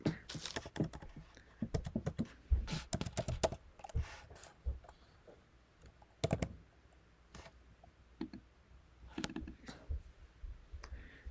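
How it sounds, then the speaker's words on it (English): Fingers typing on a computer keyboard, with quick irregular bursts of key clicks and short pauses between them, close and fairly quiet, and someone speaking at times. "Let's type it in right here."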